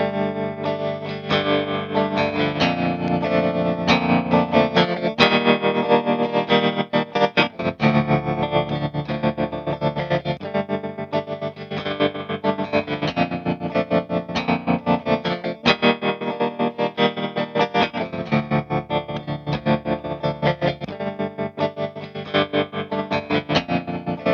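An electric guitar plays through F&S Meld and Danelectro tremolo pedals, with a continuous pulsing, choppy volume modulation over sustained chords, and no talk.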